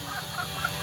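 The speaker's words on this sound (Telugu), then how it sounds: "చూడండి మన పుంజు" Rooster clucking inside a chicken coop, a short run of soft, repeated clucks at moderate distance over low background noise.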